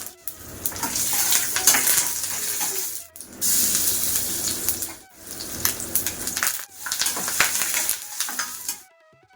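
Tempering spices for curd rice sizzle and crackle loudly in hot oil, the frying hiss rising and falling in several bursts with brief quiet gaps between.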